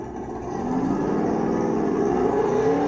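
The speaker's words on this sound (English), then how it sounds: "Oh, but he did do a little bit of burnout there." A dragster with wheelie bars revs its engine in a rodeo parade, a sustained rising roar that swells after a softer start and holds loud and close.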